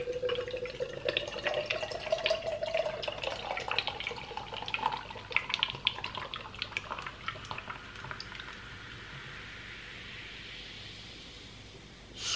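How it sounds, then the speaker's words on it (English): Original Diamond cider glugs from the bottle into a glass, its pitch rising steadily as the glass fills, then settling into a soft fizzing hiss near the end, close and alone without any voices. "for when I start pouring it"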